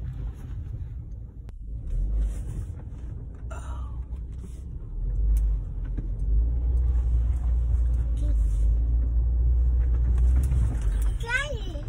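Low rumble of a rental car rolling over a bumpy road, a steady engine and road drone with occasional jolts, while people talk inside.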